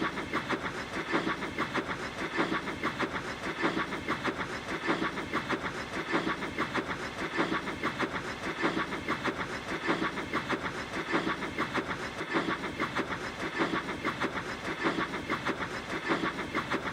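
A steam engine train runs steadily along the line, its rhythmic chuffing and wheel clatter repeating evenly at a moderate, unbroken volume throughout.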